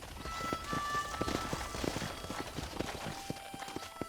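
Horse hooves clip-clop steadily in the Red Dead Redemption video game, a quick even gallop rhythm of many close, clear hoofbeats that continues throughout, with no talk.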